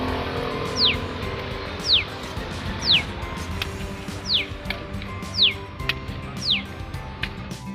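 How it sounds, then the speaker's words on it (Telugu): Sparrows chirp in a series of six sharp descending calls spaced about a second apart, standing out clearly over a steady outdoor background hum at a temple roadside stop. "నాకు చాలా ఇష్టం పిచ్చుకల సౌండ్."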